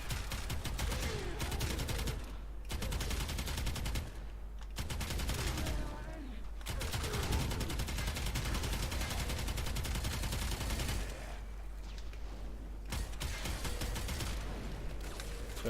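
Rapid bursts of Twin Kohmak gunfire in a video game, dense automatic shots rattling in long strings broken by brief pauses, loud and close, with a voice talking over parts of it.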